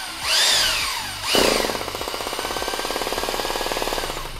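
A German-made 100V electric hammer drill, imported via Japan, runs on its light hammer setting: two loud startup bursts give way to a steady, fast, even stream of rattling hammer blows, close and alone.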